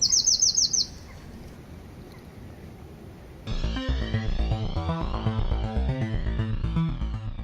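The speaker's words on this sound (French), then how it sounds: "ce troglodyte mignon, surnommé roitelet des haies, un oiseau très discret qui ne pèse que quelques grammes" A Eurasian wren, a tiny discreet songbird, gives a brief high rapid trill at the start, then falls quiet as loud music with a steady beat takes over.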